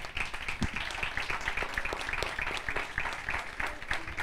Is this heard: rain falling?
no